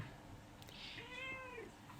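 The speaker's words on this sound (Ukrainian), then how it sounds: "Це позитивне мяу чи негативне?" A cat lets out a single drawn-out meow, clear and fairly close, over a faint room hum.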